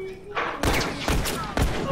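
Several sharp, loud gunshot bursts crack out in quick succession from a rifle in The Last of Us Remastered, each with a heavy thud and a short ringing tail.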